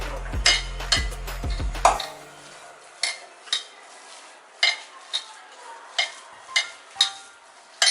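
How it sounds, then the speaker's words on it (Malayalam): Ground lentil and spice batter for Kerala parippu vada is mixed by hand in a bowl, with a few sharp scrapes followed by a steady run of soft, rhythmic slaps and taps. "അതിൽ കൂടെ നമുക്ക് ചേർത്ത് ഈ മാവ് നന്നായി ഒന്ന് മിക്സ് ചെയ്ത് എടുക്കാം"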